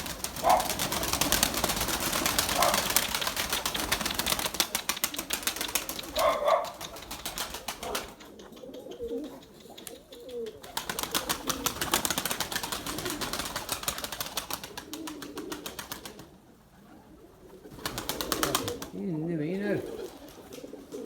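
Pigeons at a loft give soft cooing and wing flaps amid outdoor noise, fading in and out in irregular patches with quieter gaps between.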